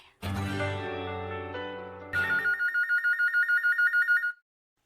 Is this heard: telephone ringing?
yes